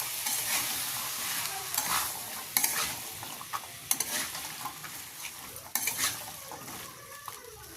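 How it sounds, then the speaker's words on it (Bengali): Spiced green peas being stirred and fried in a pan for ghugni, with a steady sizzle broken by repeated scraping strokes and occasional clinks of the spatula against the pan, no voices. "দেখুন আবারও নাড়াচাড়া করে কষে নিয়েছি এবারে ভেজে রাখা আলুটা দিয়ে দিচ্ছি"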